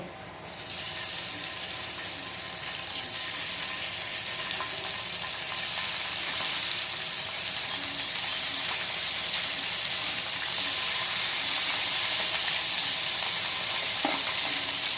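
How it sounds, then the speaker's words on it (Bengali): A second batch of bele fish fries in hot oil for a Bengali fish curry, giving a loud, steady, close-up sizzle that holds evenly for the whole stretch. "সেকেন্ড ব্যাচের মাছগুলো ভাজা হয়ে যাক বন্ধুরা"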